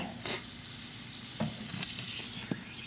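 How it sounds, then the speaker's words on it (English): A can of Dermoplast spray, burst after being microwaved, fizzes and hisses continuously at a low level, with a few faint crackles and pops. "Still fizzing."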